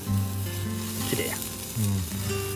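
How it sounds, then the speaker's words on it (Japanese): Meat sizzles loudly while grilling on a camp setup, with juices dripping and spattering; a steady frying crackle runs throughout, with brief tonal background noises underneath. "うわ、この音、肉汁がね、垂れたわね"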